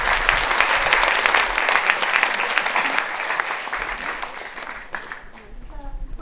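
Audience applause at a Korean community gathering, loud and dense from the start, then thinning and fading toward the end as a voice begins speaking over it.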